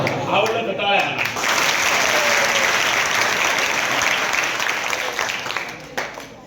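Audience applause fills a school hall after a one-man play about Mahatma Phule, a dense, loud wash of clapping that holds steady for several seconds before thinning out near the end.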